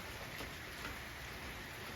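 Steady rain falls on a day of rain where a young elephant plays in the wet, making a continuous even hiss with no break and no voices.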